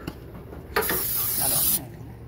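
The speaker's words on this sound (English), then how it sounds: "we're just gonna spray it with some spray" Cooking spray hisses in one short, close burst of about a second over food bound for the air fryer, preceded by a light click and faint handling noise.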